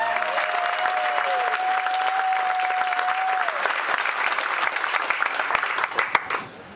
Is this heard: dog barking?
no